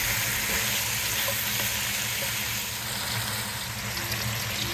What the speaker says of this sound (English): Continue to stir well.